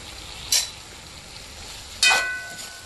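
Spices fry in a pan with a soft ongoing sizzle, broken by two sharp bursts of louder hissing and scraping as they are stirred, with no voices.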